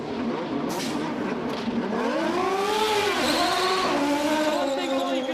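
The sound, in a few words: Indy race car engine revving out of the pits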